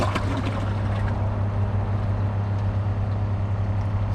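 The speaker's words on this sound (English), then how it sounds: "We're gonna both do a press and release flush and see which one does better." A Glacier Bay PowerFlush toilet flushes bottle caps and plastic wrappers, a steady loud rush and gurgle of water with a low hum that holds for the whole stretch, with no voices.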